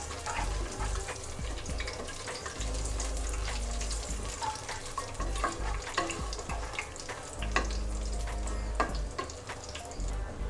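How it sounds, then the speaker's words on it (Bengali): Whole spices sizzle and crackle in hot oil for tempering a Bengali-style mutton and potato curry, a loud continuous frying hiss with scattered pops and occasional stirring scrapes, plus a low rumble from the stove. "যে যে আস্ত মশলাগুলো আছে এগুলো এখন আমি ফোড়নের জন্য দিয়ে দেবো।"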